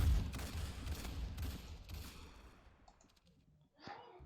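A long-range gun fires in the game Arsenal, with a burst of sharp shots up front that trail off into quiet before a final single crack near the end.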